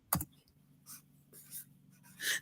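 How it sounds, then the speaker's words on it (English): Keyboard typing during a live vintage sale, a few scattered clicks and short bursts of keystrokes close by against a quiet background, with a louder flurry near the end. "I'm just typing away"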